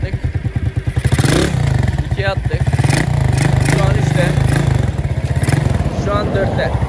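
A motorcycle engine, checked for a worn clutch plate while in gear, runs with a loud, rapid, close-up chugging pulse and some mechanical clatter, while someone talks over it.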